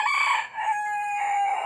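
A rooster beside an aviary where his hen runs about crows once, close and loud, a strained, drawn-out call that rises, dips briefly and then trails off in a long held tail.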